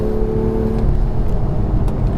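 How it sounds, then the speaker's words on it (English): A BMW M2 accelerating hard out of a corner at Laguna Seca, heard from inside as a loud, steady engine drone with rumbling low-end road noise throughout. "Oh, I love the way this car exits the corners"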